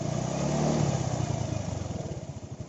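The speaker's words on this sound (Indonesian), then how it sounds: "gaya yang diberikan pada motor ini ketika kita menarik gas" A motorcycle engine revs up loud and close as the throttle is opened, rising in pitch, then settles into a throbbing, pulsing idle toward the end, with no talk over it.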